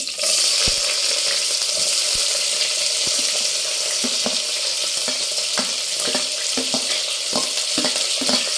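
Sliced onions sizzle in about four spoons of hot oil for chicken fry biryani, a steady, loud frying hiss that runs throughout with occasional soft clinks and stirring taps.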